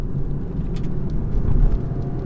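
A BMW 320d diesel pulls hard in third gear, its engine a dense, steady low rumble heard from inside the car with a slight swell near the end.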